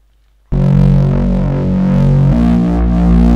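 A thick, distorted Reese bass synth holds a sustained note, its phased, detuned unison voices wobbling and sweeping, then shifts pitch partway through, loud and alone after a brief silence.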